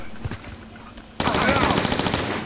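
Rapid automatic gunfire rings out in Tomb Raider IV, a sudden loud burst that starts partway through and keeps going steadily after a quieter opening.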